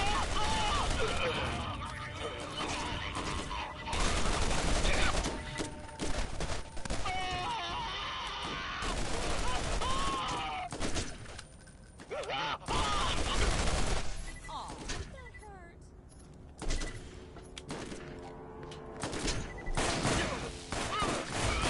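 Repeated gunfire bursts from a Borderlands Game of the Year Edition weapon on PlayStation 4, loud and dense in irregular volleys through a chaotic firefight, with a voice talking over parts of it.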